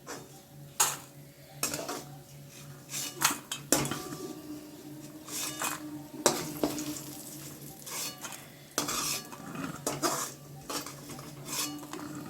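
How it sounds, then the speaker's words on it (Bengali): Lentil dumplings (bori) fry in oil in a pan, heard as a low, steady sizzle beneath frequent clinks and scrapes of a spoon stirring against the metal pan. "গোটা বড়িগুলো একেবারে ভেজে নিচ্ছি"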